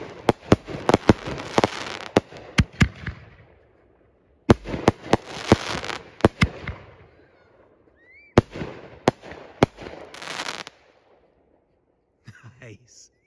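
Tank Buster firework shells go up and burst with triple breaks, giving loud sharp bangs in three clusters, each followed by a crackling tail and separated by short quiet gaps.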